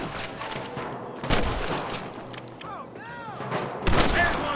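Gunfire in the Red Dead Redemption video game: sharp shots burst out loudly at intervals amid a busy mix of game effects and other noise, with a voice briefly speaking over the action.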